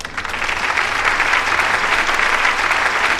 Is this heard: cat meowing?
no